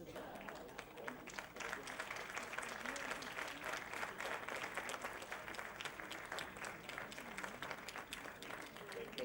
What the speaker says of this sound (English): A round of applause, please, for Cyrus Rocha and Zenobia Gandhi.